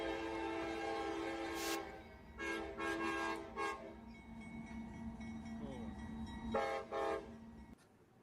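Train horn sound effect in repeated long blasts, loud chords broken by short gaps over a low rumble of rail noise, ending in a final pair of blasts.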